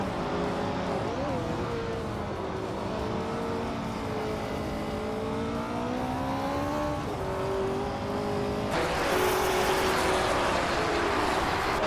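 Race car engines drone with layered rising and falling harmonics as cars overtake in a racing video game, a steady loud engine roar throughout with a brighter, harsher burst near the end.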